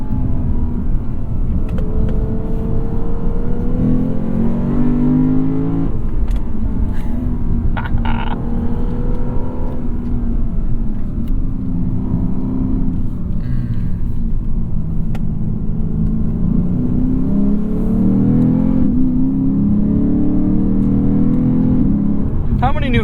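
A 2023 Lexus RC F's V8 revs hard while driving, the engine note climbing and dropping through repeated pulls, loud and close, with a voice talking over parts of it.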